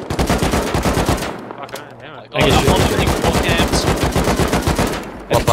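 Rapid automatic gunfire in the survival video game Rust, loud bursts of closely spaced shots with a brief lull partway through before firing resumes heavily.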